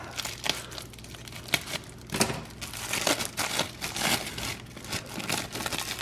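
Plastic wrap crinkles and rustles in irregular bursts, close and moderately loud, as it is handled and pulled apart.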